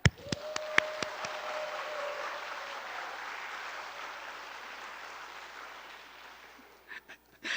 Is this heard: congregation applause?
yes